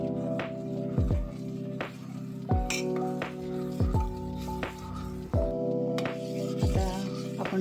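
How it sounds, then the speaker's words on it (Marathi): A spoon scrapes and clinks against a pot of thick rice kheer (rice pudding), giving repeated stirring strokes at roughly one-second intervals over a steady low background hum, with no one speaking. "सतत असं ढवळत राहायचं आणि थोडासा नॉर्मल थोडा गॅस वाढवायचा"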